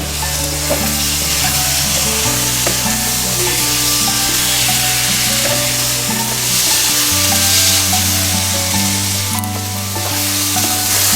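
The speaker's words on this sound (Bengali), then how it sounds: "মশলার সাথে সোয়াবিনটা খুব ভালো করে ভেজে নিলাম" Soya chunks fry with spices in oil, a loud, continuous close sizzle over a steady low kitchen hum that shifts pitch a couple of times, with occasional stirring knocks.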